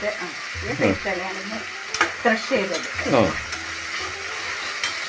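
Ginger-garlic paste frying in oil in a pan for kappa biryani, a steady sizzle broken by stirring scrapes and clanks of a spoon against the pan, with a voice speaking over it.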